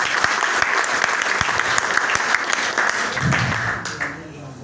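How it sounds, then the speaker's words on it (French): Applause from a seated audience at a NeoLife health and business presentation, a dense steady wash of many hands clapping that fades toward the end, with a voice briefly heard over it. "Est-ce qu'on peut applaudir pour Néolave?"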